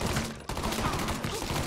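Gunfire in the video game Mafia 3: a dense, noisy burst of shots, likely from a shotgun, with a sharp break mid-clip and continued crackling blasts filling the rest, loud and close.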